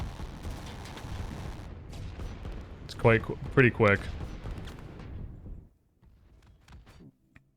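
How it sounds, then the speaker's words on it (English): Several quick, booming missile launches burst in a rapid cluster amid rumbling sounds in the strategy game Line War, with someone speaking briefly before things quiet down. "There's the missiles."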